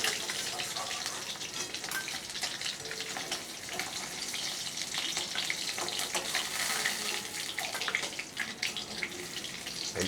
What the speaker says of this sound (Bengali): বন্ধুরা, আমার মাছগুলো ভেজে নেওয়া হয়ে গেছে। এবার আমি তুলে নিচ্ছি।